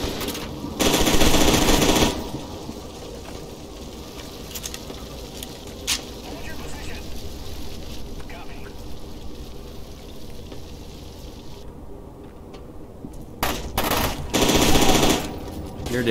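Machine gun fire from FEAR 2 Project Origin, loud sustained bursts at the start and again near the end, with quieter ambient game noise and scattered sounds between them.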